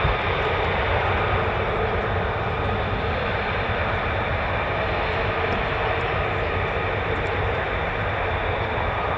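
F-35 fighter jet engine at RAF Lakenheath's 48th Fighter Wing, a loud continuous roar with a deep rumbling low end that stays heavy and unbroken the whole time, no voices.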